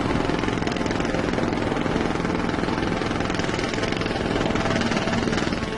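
Aircraft noise: a loud, unbroken engine drone with a dense rumbling roar that holds steady throughout, with no voices.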